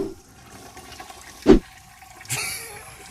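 A toilet flush: a sudden watery rush after a short sharp knock, loud and close, then fading into a softer trickle of refilling water with no talk over it.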